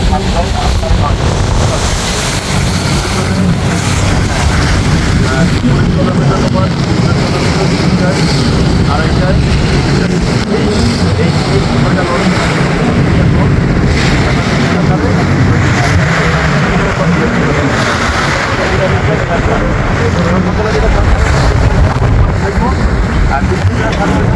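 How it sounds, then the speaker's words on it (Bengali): Constant loud engine drone and rushing wind and water noise from a passenger launch rolling on the rough Tetulia River, steady throughout with no clear breaks. "নদীর ভয়ঙ্কর রূপ লঞ্চ বেশ রোলিং করতেছে"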